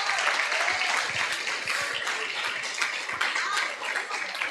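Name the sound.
congregation applauding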